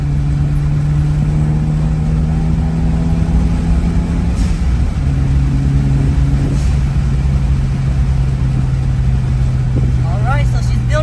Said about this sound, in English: See if there's any turbo lag.